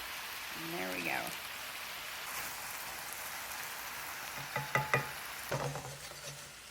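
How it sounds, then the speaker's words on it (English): Spinach wilts in a hot pan with a steady, hissing sizzle, while a few clattering stirs break through near the end and a voice speaks briefly early on. "Do this in batches so our spinach gets wilted down"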